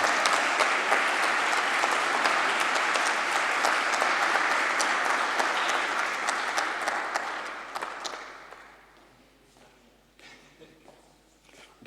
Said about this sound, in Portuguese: Eu pedia o favor de uma grande salva de palmas ao nosso colega e amigo Pedro Verdelho